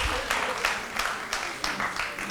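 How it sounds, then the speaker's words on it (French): Applause from a student debate competition audience in Guinea, a broad wash of clapping with periodic swells, moderately loud and steady for about two seconds, with faint voices mixed underneath. "on les applaudit s'il vous plaît"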